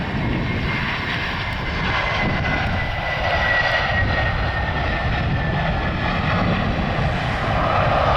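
A US Airways Airbus A321 airliner landing at RSW airport, a loud, sustained jet engine roar with a broad rushing hiss and a faint descending whine, steady throughout with no talk.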